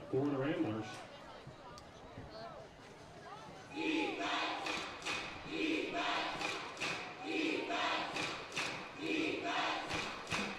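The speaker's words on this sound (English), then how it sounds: "They are pumping the defense chant into the stadium and trying to fire up the Wolverine crowd at Magic Morgan Stadium." A home crowd at Magic Morgan Stadium rhythmically chants a defense chant over a stadium speaker feed during a high school football game, with loud, regular pulsing bursts rising after a quieter stretch and a commentator talking over it.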